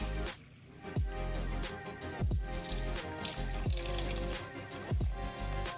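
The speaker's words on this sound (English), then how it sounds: "I'm gonna pour it in my molding." Flan mixture pours and splashes into a mold in soft, repeated glugs, faint and close, with no talking.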